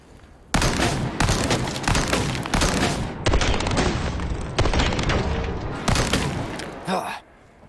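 Shotgun blasts from the Resident Evil 4 Remake, a rapid string of loud, booming shots with short gaps, one final blast near the end before the sound drops away.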